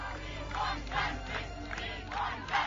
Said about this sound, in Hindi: पुलिस मुख्यालय पर जुटी भीड़ ने दिल्ली पुलिस के खिलाफ जमकर नारेबाजी की